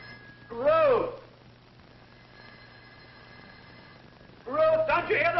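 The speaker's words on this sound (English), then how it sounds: "Ruth, don't you hear the phone?" An old telephone rings indoors in two bursts of bright, warbling bell tone separated by a quiet pause, with a low steady hum underneath and no voices.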